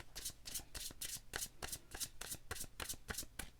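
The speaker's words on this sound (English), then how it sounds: "One more shuffle." A deck of reading cards is shuffled close by in a steady, quick rhythm of about a dozen soft riffling strokes, with no talking.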